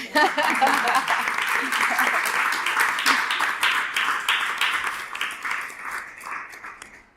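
An audience applauding after a talk on photography and feminism at an artist café event, dense steady clapping close by that gradually thins and fades toward the end.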